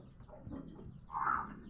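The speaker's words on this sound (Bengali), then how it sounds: "দেখেছো মুরগির বাচ্চা?" Hens and chicks cluck softly nearby on a rooftop, with a few low, quiet calls followed by one louder, brief squawk.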